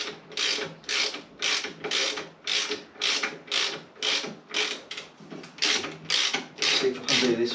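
Loosened fittings being undone in a shed after bleeding out fluid, a steady rhythmic ratcheting and rasping with about a dozen evenly spaced strokes, close and loud, with no talk.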